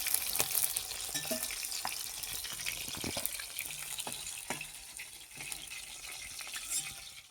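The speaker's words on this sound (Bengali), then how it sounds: "আমার মাছটা ভাজা হয়ে গেছে।" Fish fries in hot oil with a soft, continuous sizzle and crackle, punctuated by occasional spatters and faint utensil taps, quiet and close, with no voices.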